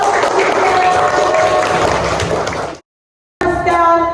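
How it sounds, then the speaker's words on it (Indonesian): Classroom applause for a student, a burst of many small hands clapping with some voices underneath, cutting off abruptly into silence before a short return of clapping and chatter. "Tepuk tangan untuk teman kita."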